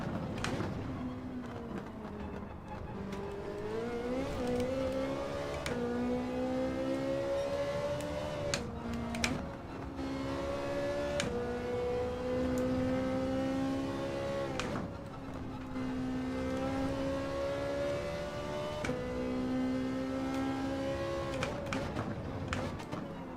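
A Ferrari engine revs up and down through a racing corner in Gran Turismo 7, its rising and falling pitch steady and fairly loud, with gear changes marked by brief breaks and no talking.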